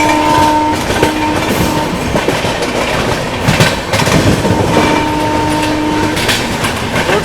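A goods train on the opposite track passes an Indian express running at speed near Sahibabad. Loud rail rumble and clattering fill the clip, with a brief horn tone early on and again later.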